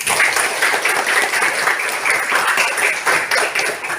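Applause for a group of students in a classroom lesson, steady dense clapping throughout, fairly loud and continuous with no break.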